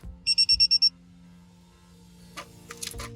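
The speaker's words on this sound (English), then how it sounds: "I should hear a couple of beeps" A GO9 vehicle tracking device plugged into a car's OBD II port gives six quick, evenly spaced electronic beeps, clear and close, followed by faint handling noises.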